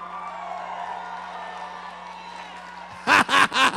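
A church congregation breaks into bursts of clapping and shouting, three loud surges near the end following a stretch of sustained organ-like tone under murmuring.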